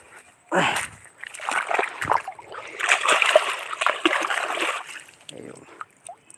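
Water splashes and sloshes as something is rinsed clean, with irregular wet bursts through the middle and talk around it.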